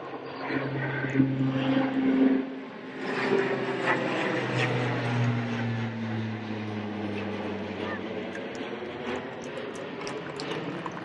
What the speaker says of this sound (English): The aircraft is from the 181st Airlift Squadron, 136th Airlift Wing, Fort Worth, Texas.